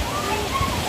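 Water splashes and sloshes down onto riders at an amusement park water ride, a steady close wash of spray with voices talking over it.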